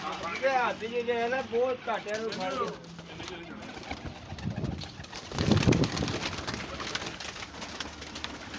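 Female pigeons coo on a rooftop loft, soft calls heard beneath someone talking nearby, with some background shuffling.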